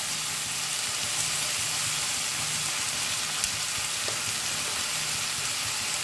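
Capsicum and turmeric powder frying in a pan while making poha, a steady close sizzle that stays level throughout with a faint stir or two and no talking.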